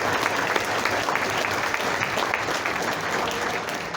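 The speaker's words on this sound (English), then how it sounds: "How about a round of applause for those folks that did" An audience gives steady, dense applause at a high school alumni association event, a continuous wash of clapping from many hands in a hall, with no speech over it.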